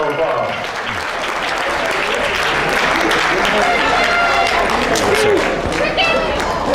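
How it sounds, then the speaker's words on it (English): An audience in St. Louis applauds a speaker as he comes forward, sustained clapping and cheering mixed with crowd chatter and voices, loud and continuous throughout. "Let's give him a round of applause."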